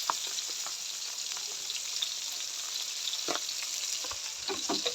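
Pabda fish sizzle and crackle steadily in hot oil in a pan, with a dense, even frying hiss and occasional stirring scrapes up close.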